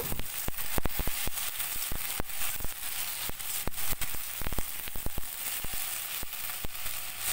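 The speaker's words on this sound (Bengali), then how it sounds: "কেটে রাখা কচুগুলো দিয়ে দেব। খুব ভালো করে নেড়ে চেড়ে নেব।" Cut taro pieces fry with browned onions in a pan, a steady sizzle broken by frequent sharp clicks and taps of a stirring spoon against the pan.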